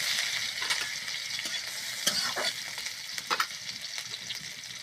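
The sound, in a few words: whole cumin and green chili frying in oil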